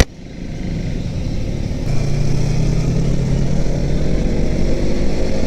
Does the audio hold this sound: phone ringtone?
no